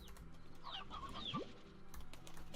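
Chickens clucking in the video game Slime Rancher, a short run of fowl calls with one rising squawk, heard at moderate level over a steady game background.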